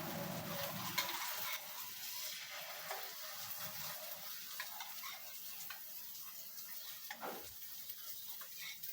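An egg hits hot oil in a pan for a torta, giving a steady close sizzle and crackle that runs throughout, with faint ticking and stirring noises.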